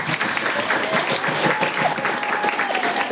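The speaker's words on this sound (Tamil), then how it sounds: "பெரியகரம் அண்ணா நகருக்காக ஜோர ஒரு கைத்தட்டு." An audience at a Christian testimony event breaks into steady, enthusiastic clapping, a dense wash of many hands sustained at even loudness.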